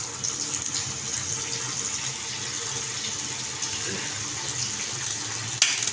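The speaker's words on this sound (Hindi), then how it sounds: "ये मैंने पानी खोला" Water runs from an opened tap through an instant gas geyser in a home, a steady close gushing stream that continues evenly with no talk, ending with a short clatter.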